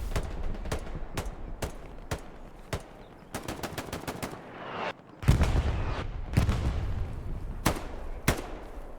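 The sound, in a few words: gunshots in video game Hell Let Loose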